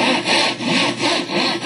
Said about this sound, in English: A man rips a handsaw through a piece of plywood in his basement workshop